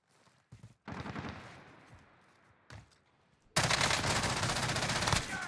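M16 rifle fire in the video game Warzone: a couple of short, sharp bursts early on, then a loud, sustained volley of rapid shots near the end, with no talking.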